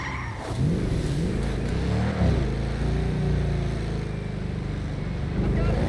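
A Bugatti in the GTA 5 video game runs with a loud, continuous engine rumble and shifting revs, accompanied by some tire and road noise.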